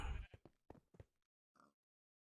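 A video game sheep bleats several times in short, close, fairly quiet calls, followed by a brief pause and one last bleat.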